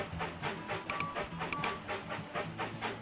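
Adler steam locomotive running in Railroad Tycoon 3, giving a rhythmic chugging clatter with repeating wheel-on-rail beats and a few faint high metallic tones, moderately quiet and steady throughout.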